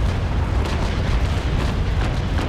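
A ship's cannon broadside fires in the age-of-sail naval battle game Naval Action, rolling booms that blend into a continuous loud low rumble from start to finish, with no talk.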